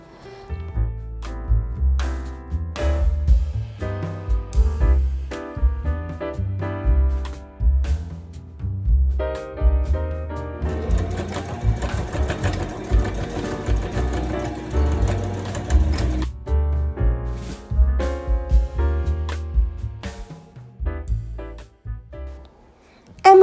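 A sewing machine runs a straight stitch along fabric for a cloth crossbody bag, a loud rapid mechanical chatter in bursts with short pauses and a longer steady run in the middle.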